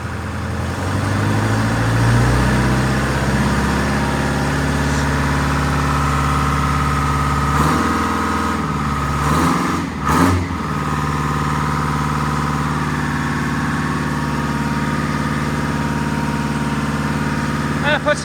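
A Detroit Diesel engine idles after sitting unused for a few months, a loud, steady low rumbling drone that holds evenly throughout, with a couple of brief knocks and bumps near the middle.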